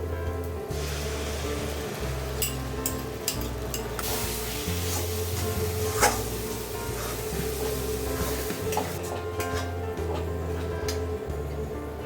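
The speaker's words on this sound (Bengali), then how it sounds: "এবার আমি মিশিয়ে নিচ্ছি বেটে রাখা কাজু" Cashew paste being stirred into frying masala for Rui korma, a soft continuous scraping and sizzle in the pan, with occasional spoon knocks over a steady background hum.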